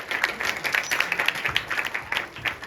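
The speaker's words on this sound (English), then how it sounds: "A big round of applause for our children." Applause from a gathering at a Gita course session honouring the children, many hands clapping in a dense, steady burst that swells in uneven pulses and stays fairly close.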